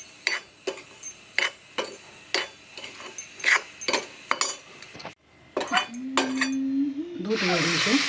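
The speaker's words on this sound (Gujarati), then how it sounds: "બંને મિક્સ કરી દઈશું।" Roasted semolina and Purna Shakti flour being stirred together in a pan, giving a run of sharp metallic spoon scrapes and clinks against the pan at a steady working rhythm, close and fairly loud, ending in a louder rough rubbing.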